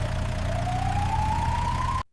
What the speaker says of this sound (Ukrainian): Раптом він почув звук поліцейської машини.